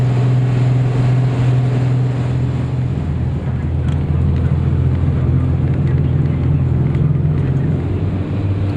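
A struggling bus engine drones loudly and continuously, its low rumbling tone shifting as if labouring, with wind and road noise throughout.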